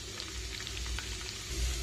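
Cumin, urad dal, mustard seeds and crushed garlic fry in hot oil as a tempering for a grape pickle. A close, continuous crackling sizzle runs evenly throughout, with no talking.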